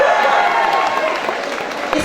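Audience at a Delta Music Live 40th-anniversary show applauding a guest named Betty, a dense steady wash of clapping and crowd noise lasting about two seconds, with a voice faintly over it.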